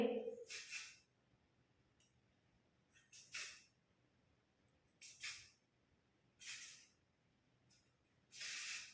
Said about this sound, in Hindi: स्प्रे करेंगे।